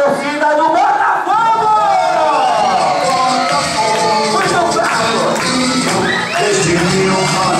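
A party crowd at a cultural event in Niterói shouts and cheers loudly for Botafogo, a dense continuous roar of many voices with whistles and wavering yells, close and saturated throughout.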